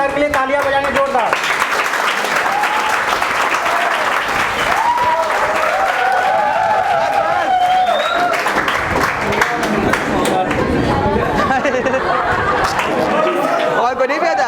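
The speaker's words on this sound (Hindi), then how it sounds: "एक बार सर के लिए तालियां बजाएंगे जोरदार।" Loud, sustained applause fills a classroom during an offline commerce entrance revision class, with chatter and voices mixed in throughout.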